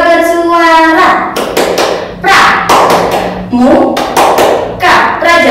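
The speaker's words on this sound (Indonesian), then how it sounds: "Tepuk pramuka bersuara." Scout pupils perform a tepuk pramuka chant, shouting rhythmic chanted syllables loudly and close, punctuated by bursts of patterned hand claps.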